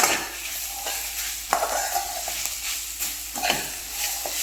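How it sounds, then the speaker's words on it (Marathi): Peanuts and green chillies for Kolhapuri thecha are stirred together in a hot pan. There is a close, steady sizzle, with repeated scraping and clinking strokes of the spoon, and nobody speaks. "आणि आता इथे शेंगदाणे आणि मिरची व्यवस्थित मिक्स करून घ्यायची आहे"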